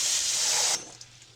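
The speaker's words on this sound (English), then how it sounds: "So from the mold to the sink we have a bucket, clean bucket. You fill that with water." Water from a sink tap spraying into a clean bucket, a bright steady hiss that cuts off abruptly partway through, leaving a quiet room with faint small sounds.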